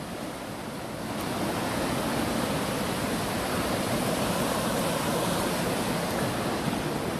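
The Narmada river rushes over Dhuandhar falls in a strong, unbroken roar of water, loud and close, swelling after the first second and then holding steady, with no talk.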